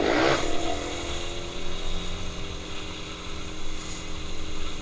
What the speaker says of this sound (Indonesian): Ya udah berisik banget itu motor